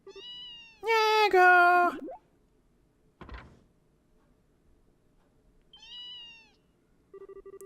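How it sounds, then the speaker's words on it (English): Cat meows in the game Trails in the Sky the 3rd, a long wavering meow early on and a shorter one near the end, clear and close, with brief game sound effects and a short spoken line between. "You're kidding me. A cat?"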